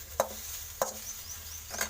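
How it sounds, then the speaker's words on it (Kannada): Fenugreek greens being stirred and fried in a pan, with a few soft scrapes of a spoon against the pan over a faint, steady sizzle, close and quiet with no one talking. "ಓಕೆ, ಈ ಸೊಪ್ಪನ್ನ ಫ್ರೈ ಮಾಡ್ಕೊಳ್ಳೋಣ"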